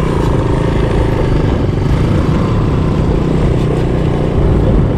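A Honda ATC three-wheeler engine roars steadily and loudly while the machine does sideways wheelies off-road. The drone is continuous with a rough, clattering texture, and no one speaks.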